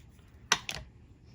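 Scissors snip through cardstock for a Christmas card project, two quick crisp cuts close by in a quiet room.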